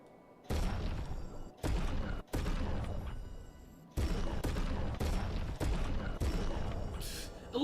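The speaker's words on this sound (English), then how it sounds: "I love how the purchase sounds like a gunshot." Purchase sound in the video game Clair Obscur: Expedition 33, a string of heavy, booming gunshot-like bursts repeating roughly every half second to a second, loud and close, with short gaps between.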